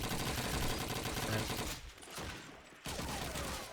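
Rapid gunfire fills a Call of Duty 2 multiplayer match on the Burgundy map, a loud, continuous fusillade that drops off briefly near the middle and then comes back sharply. Faint talk sits underneath.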